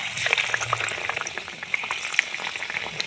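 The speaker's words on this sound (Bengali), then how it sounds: "কুমড়োটা আমি তেলের মধ্যে এইভাবে ছেড়ে দেবো।" Pumpkin slices for pumpkin chop fry in hot oil, giving a busy bubbling sizzle with scattered sharp pops and crackles at moderate loudness.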